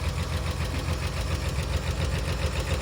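An old Chevrolet Tri Five, brought back after sitting for thirty-seven years, idles loud and near with a steady, slightly knocking pulse that carries on unbroken.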